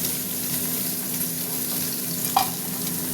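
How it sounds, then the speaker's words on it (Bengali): Teasel gourd (kakrol) pieces fry in oil with a steady, moderate sizzle and a low background hum, plus one brief sharper pop. "আর এদিকে কাঁকরোল ভাজছে, দেখো কাঁকরোল ভাজা হচ্ছে"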